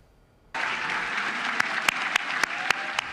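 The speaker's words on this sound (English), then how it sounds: "With cheers and applause," Legislators cheer and applaud for Governor Scott opening the 2017 legislative session, a sudden dense burst of clapping that holds steady with a few sharp louder claps standing out.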